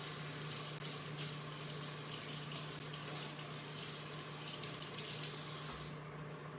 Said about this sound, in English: I'm gonna rinse off my fork because,